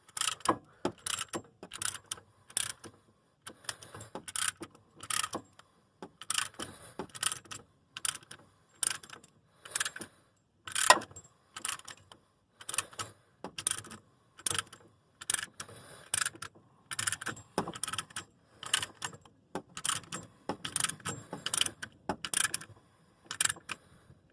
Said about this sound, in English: Keep compressing, it goes all the way down.